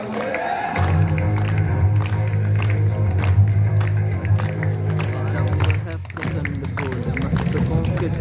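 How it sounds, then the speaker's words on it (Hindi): An audience at a Republic Day mallakhamb display at a gurukul in Aryanagar, Hisar, breaks into loud, sustained clapping over a droning background, with voices talking and cheering amid the applause. "सभी तालियों से स्वागत करेंगे"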